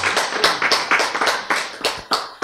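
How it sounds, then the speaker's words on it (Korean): A church congregation claps together in a steady rhythm, roughly a dozen sharp, close claps in quick succession with almost no talking over them. "박수 한번 치세요. 박수."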